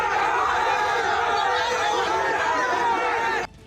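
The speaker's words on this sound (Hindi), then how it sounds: "अस्पताल के बाहर लोगों की भीड़ जमा होने लगी।" Crowd of angry people gathered outside a hospital, a dense, loud babble of overlapping voices and shouting that continues steadily and then cuts off abruptly.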